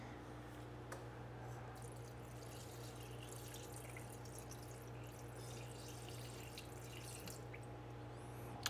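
Water runs into a cooking pan with a soft, steady trickling and splashing, continuous and fairly quiet against a constant low hum in the background, with no voices.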